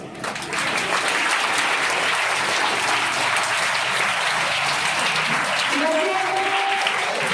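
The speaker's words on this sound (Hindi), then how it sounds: "आप ताली बजा रहे हैं अच्छी बात है" Loud, dense clapping from a large audience at a school ceremony marking a 132nd birth anniversary, continuous for several seconds, with voices speaking faintly beneath the applause.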